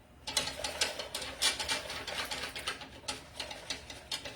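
Egg yolks are stirred briskly in a bowl, producing a rapid, steady clicking and ticking of the utensil against the bowl, close and moderately loud, with no voices.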